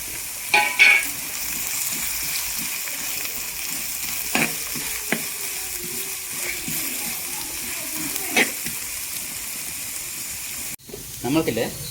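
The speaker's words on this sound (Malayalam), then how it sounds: "ഇനി നമ്മൾക്ക് സബോള ഇടാം സബോള ഇടാം" Sliced onions drop into a hot pan and fry with a steady, close sizzle, broken by a few stirring clatters and a louder splash of movement near the end; light voices can be heard in the background of a home kitchen.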